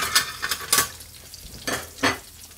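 Sliced bread fries in a pan, with a spatula scraping and stirring in short bright bursts over a faint continuous sizzle, close and alone.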